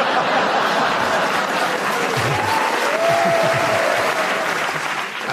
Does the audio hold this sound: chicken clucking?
no